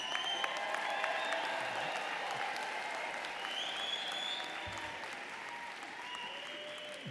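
A commencement audience at a medical school ceremony bursts into sustained applause with scattered cheers and whistles, a dense steady clapping that holds for about seven seconds at moderate distance.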